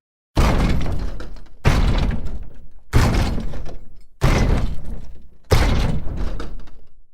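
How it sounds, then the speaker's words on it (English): Five heavy designed mechanical stomps, built from ski boots, a car door and a walking support, land about every 1.3 seconds. Each is a loud booming impact with a metallic, crunchy tail that fades before the next hit. "This is called mechanical. It's from the design category and sounds like this."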